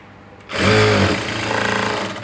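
A sewing machine stitches blouse fabric, starting abruptly after a quiet moment into a loud, steady, close-up mechanical whirr with a fine rapid rattle.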